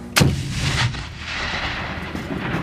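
A hand grenade explodes during US Marines live training, one sharp, loud blast that then rolls off into a long, rumbling tail of echo and debris noise.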